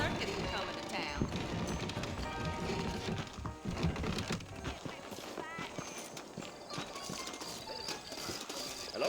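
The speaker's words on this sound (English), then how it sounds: "I got the horses saddled up and ready out front." Saddled horses trot along in Red Dead Redemption, their hooves clip-clopping steadily and close under a busy game soundscape, with voices talking faintly alongside.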